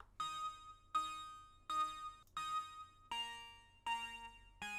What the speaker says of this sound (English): another background pluck that's repetitive.